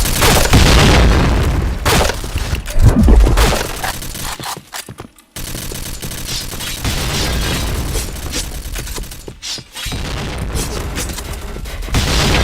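Grenades explode again and again during a Point Blank video game match, with deep booming blasts mixed with dense rapid gunfire, loud and continuous apart from two brief drops to near silence.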